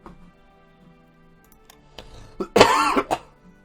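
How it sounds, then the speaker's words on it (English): A single harsh cough with some throat clearing, close and loud after a quiet stretch. "Got a bit of a cough going. I've had this cough for a little while."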